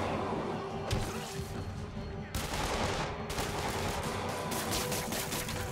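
Gangsters firing guns in the video game Marvel's Spider-Man: fairly loud, sustained bursts of rapid gunfire with sharp crashes, continuing through the whole stretch in dense volleys.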